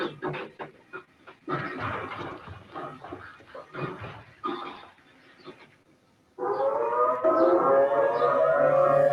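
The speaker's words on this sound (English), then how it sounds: "Okay, I'm going to sound the siren." A civil defense siren near Greater Cincinnati Airport starts up and wails steadily and loudly after a stretch of dogs barking and yelping nearby.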